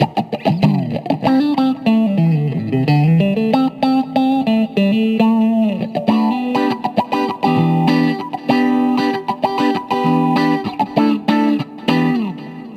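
Electric guitar played through a touch-sensitive filter effect on a Fender Mustang LT 25 amp: choppy, staccato notes whose tone quacks and swells with each pick, loud with no voices.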